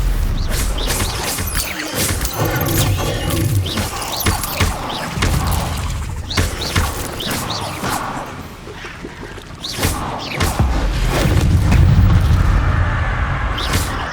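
In the Hogwarts Legacy video game, the Confringo explosive spell blasts amid a dense mix of loud booms, crashes, shattering and whooshing spell effects from continuous combat, with no talking.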